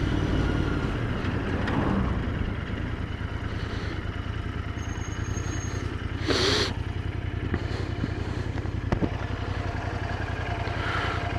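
A 2019 Royal Enfield Interceptor 650 motorcycle on a test ride, its engine droning steadily with heavy wind buffeting the microphone and a couple of brief clatters along the way.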